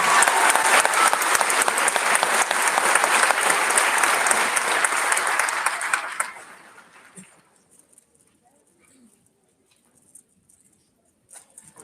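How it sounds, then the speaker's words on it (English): Audience applause at a middle school graduation: loud, sustained clapping from a large crowd for about six seconds, then fading quickly to near silence with a few faint scattered sounds. "Can we please give another round of applause"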